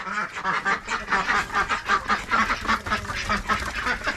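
A white call duck quacks repeatedly in a rapid, rhythmic series of loud, nasal calls, close by and continuous, with no talking.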